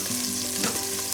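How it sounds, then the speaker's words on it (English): Meat searing in a stainless steel pan, a dense continuous sizzle and crackle, loud and close, with no voices. "I'm gonna continue searing this meat."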